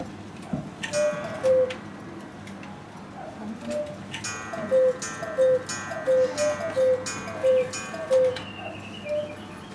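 A hand-carved Black Forest cuckoo clock ticks steadily with soft regular beats, joined by chiming and whirring mechanical sounds partway through.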